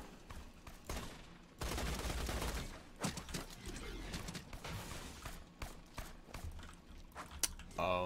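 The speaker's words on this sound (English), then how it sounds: "It's a very expensive gun to shoot." Gunfire in Borderlands 2, a dense burst of shots followed by scattered single and rapid reports, mixed with game effects and moderately loud throughout.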